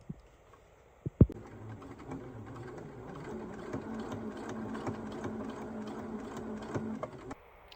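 A sewing machine runs steadily for about six seconds, stitching fabric for a sunglass case with a magnet closure. Its motor whirs at a close, moderate level after a couple of sharp knocks at the start.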